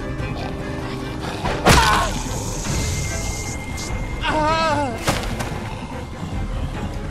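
Gunfire in The Walking Dead video game comes as a couple of sharp, loud shots among tense game ambience, and voices speak around them.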